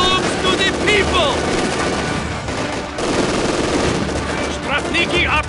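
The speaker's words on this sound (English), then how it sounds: "MG is firing at us." Machine gun fire in the Company of Heroes Stalingrad battle, loud sustained bursts of rapid automatic fire with scattered gunshots, mixed with shouted soldier voices and whistling effects.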